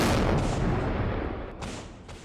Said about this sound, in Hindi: यूक्रेनी मोर्चे पर गोलाबारी की गई है।